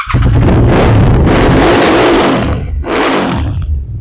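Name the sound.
second-hand motorcycle engine revving through aftermarket exhaust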